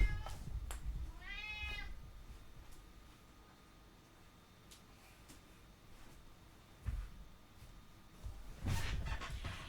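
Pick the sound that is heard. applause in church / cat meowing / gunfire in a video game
cat meowing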